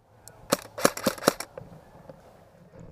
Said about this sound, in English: I'm just randomly shooting into the bushes where I last saw an enemy combatant.